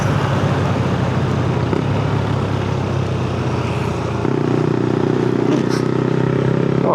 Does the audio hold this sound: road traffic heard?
yes